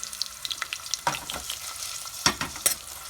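Chopped onions with garlic fry in a pot for a chicken stew, giving a faint sizzle broken by a few sharp scraping stirs and clinks near the end.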